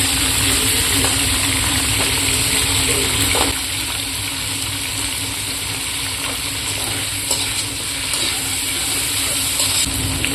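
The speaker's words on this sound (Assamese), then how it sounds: "বিলাহী, পিঁয়াজ এইখিনি ভাজি ল'ম।" Steady frying sizzle of tomatoes and onions in a pan with occasional stirring scrapes, continuous and fairly loud throughout, no voices.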